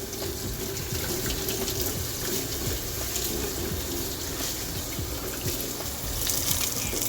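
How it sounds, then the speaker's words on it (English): Something is rinsed under a kitchen tap while making a tofu-based vegan fried chicken sandwich: a steady, close rush of running water splashing into a sink, unbroken throughout, with no voices. "just rinse this shit off"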